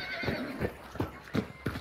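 A horse in the video game Hunt: Showdown whinnies and snorts in several short, close bursts along with a few hoof clops, loud over quiet game ambience.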